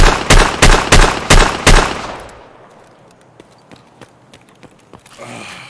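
Chiappa Rhino .357 Magnum revolver fired in Escape From Tarkov: five loud, sharp shots in a steady rhythm, each ringing briefly, then a quiet tail with faint clicks and mechanical handling noises.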